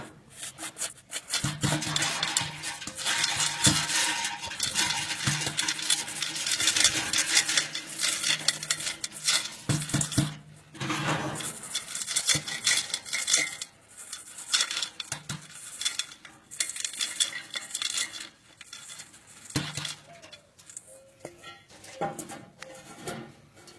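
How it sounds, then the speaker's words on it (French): Wood pellets pour and rattle into an A-MAZE-N smoke maze, a long, loud, gritty cascade with brief pauses and shifting intensity, close up and without speech. "il me reste juste à rajouter mon restant de granules pour remplir mon Amazing"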